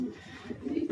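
Pigeons at a pigeon loft coo softly in low, pulsing murmurs, fairly faint against a light background hiss.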